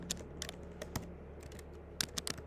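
A computer keyboard typed on in short, sparse bursts of crisp key taps nearby while code is written, with no talking.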